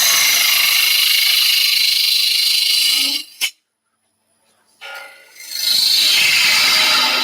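Steady, harsh scraping roar of a bowl gouge roughing out spinning wood on a lathe, broken by a short pause of near silence before the rough cutting resumes.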